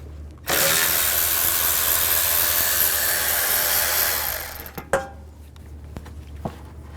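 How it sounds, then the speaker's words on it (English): Radiator bolts come out of a 2011–2014 Chrysler 200 with a 10mm socket: a loud, steady whirring drive runs for about four seconds, then stops, followed by a few sharp metallic clinks. "Take these bolts out, use a 10mm socket."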